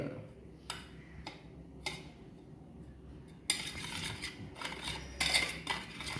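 Lime and sugar being mixed by hand for a home remedy, with small clinking and scraping strokes that turn into a denser, brisk rasping stir partway through.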